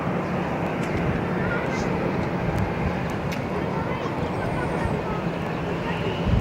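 Airliner departing Barcelona airport, an Airbus A321 bound for Seville with a Vueling jet behind it, heard as a steady, loud broadband engine roar that holds evenly throughout.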